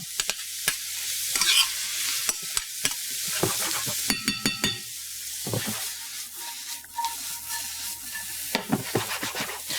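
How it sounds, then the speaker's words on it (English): Mushrooms being stirred and sautéed in a hot pan with onions, giving a steady sizzle with repeated scraping and clinking strokes of a utensil close by, with no talking. "I'm going to start stirring this up, sauteing this up."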